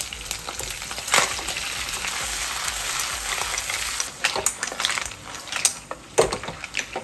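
Clams and mixed seafood tipped into a pan of browning pork, a loud bubbling sizzle throughout, later broken by sharp clattering spikes of stirring and shells knocking against the pan.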